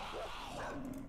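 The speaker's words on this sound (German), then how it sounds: "Da ist ein Hund!" Dog barking and growling in the survival game 7 Days to Die, a short snarling outburst with a couple of rising growl tones, fairly close and steady over about a second.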